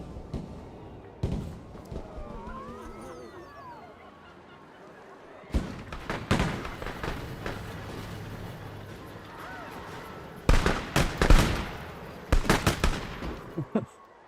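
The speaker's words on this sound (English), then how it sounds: "I put like 800 people shooting pistols off in it" Bursts of crackling pistol fire from a crowd of people at a cowboy event in Planet Coaster 2, irregular volleys of rapid pops separated by quieter park ambience with some honking calls.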